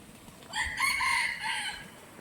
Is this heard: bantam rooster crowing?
yes